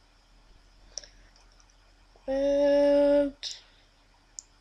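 Sharp computer mouse clicks while joining a Minecraft Classic multiplayer server: a few isolated clicks spaced apart, with a brief loud tonal burst in between, otherwise a quiet background.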